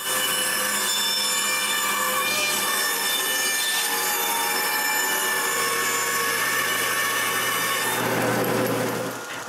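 Wooden push-block pieces are cut on a saw, producing a sustained bright whining tone that shifts near the end as the cut finishes, with no voices.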